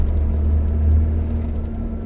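An older, loud, gruff truck engine idles steadily at a blast pit, a close, constant low rumble with no talk over it.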